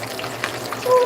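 Country-fried catfish sizzles steadily in a pan just after being flipped, a continuous close frying hiss with a low hum beneath and a brief swell near the end.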